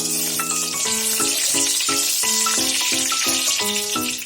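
Panch phoron, a five-spice mix, crackles and sizzles in hot oil with a steady, bright hiss that runs throughout, while a melodic tune plays over it.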